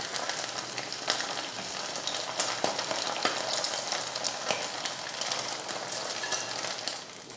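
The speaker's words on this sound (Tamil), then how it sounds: "மீதி இருக்கிற மீனையும் பொரிச்சு எடுத்துக்கலாம்." Small anchovy fish deep-frying in oil, a steady, moderately loud crackling sizzle with scattered sharp pops and occasional stirring clicks, close by and with no speech.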